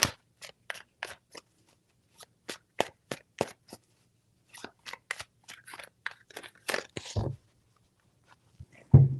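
Tarot cards shuffled by hand, a string of sharp crisp snaps and riffles in quick irregular bursts, close and alone with no talking, pausing briefly before a final flurry.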